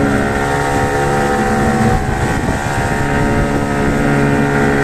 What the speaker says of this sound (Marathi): किल्ल्याकडे बोट निघालेली आहे.